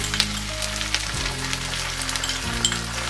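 Onion sizzles and fries in a pan for a Chilli Gobi dish, a steady close crackle with faint clinks and no talking.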